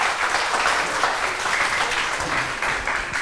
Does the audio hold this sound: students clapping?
yes